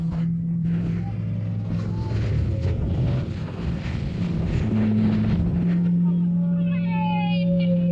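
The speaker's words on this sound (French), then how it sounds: "Bateau à grande vitesse." A motorboat engine roars at speed alongside wind and rushing water, with voices talking over it.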